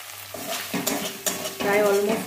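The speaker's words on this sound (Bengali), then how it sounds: "প্রায় অলমোস্ট ভাজা হয়ে এসছে" Spice paste sizzles steadily in oil while being stirred in a pan, with close scraping strokes throughout.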